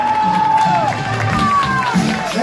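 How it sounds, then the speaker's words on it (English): Cruise ship passengers on the Queen Mary 2 cheer and shout for their team during an equator crossing game, a loud continuous crowd din with whistles and raised voices close by. "3, 2, 1, cheer on your team, ladies and gentlemen"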